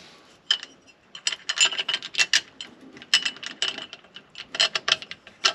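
Metallic ratcheting clicks come in quick irregular bursts, close and fairly loud, as a Ford MAF adapter with a rubber gasket is bolted into a car intake during a body-swap build.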